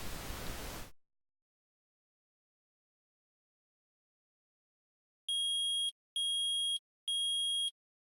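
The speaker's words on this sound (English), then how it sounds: "I permit the use of the metal detector." Three evenly spaced electronic beeps from a metal detector in the Phoenix Wright courtroom game, clear and loud after a burst of static and a long silence.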